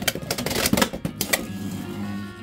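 Beyblade X spinning tops, including Driger Slash 4-80P, launched into a stadium and battling: a flurry of sharp plastic clacks and rapid collisions, followed by a softer sustained spinning whir.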